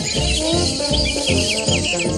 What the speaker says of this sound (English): No, it's birds. Thousands of them.